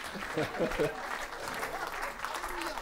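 Audience applause at a gospel concert in a church in Reims builds as a steady wash of clapping under people talking nearby, with voices rising over it early on.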